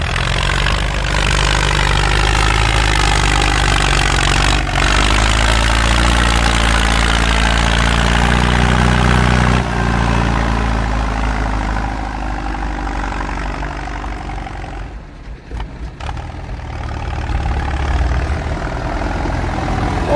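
A Ford 6610 tractor's diesel engine with H pump and short injectors runs steadily nearby, a loud continuous low rumble holding constant throughout with a brief dip near the end.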